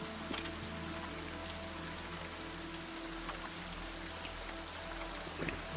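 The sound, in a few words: rain pattering on a shovel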